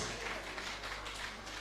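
A crowd at a Rotary Club investiture ceremony in Abuja applauds the new club president, with dense, steady clapping that fills the room throughout.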